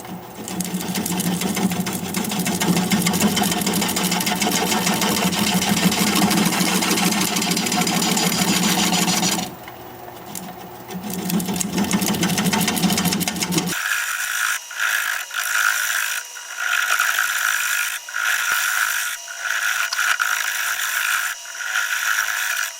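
A wood lathe turns a recess into a hazelnut wood bowl with a constant loud mechanical drone and cutting noise. A short break comes midway, then a quieter stretch of rhythmic clicking and scraping follows.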